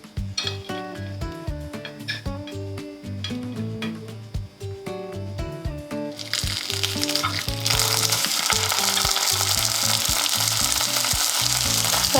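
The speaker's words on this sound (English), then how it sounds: "I'm gonna fry them for about 7 to 8 minutes until it goes like brown and crispy." Vegan salmon fillets fry in vegetable oil, starting with stirring clinks and utensil taps in the pan before a strong, steady sizzle takes over and swells louder.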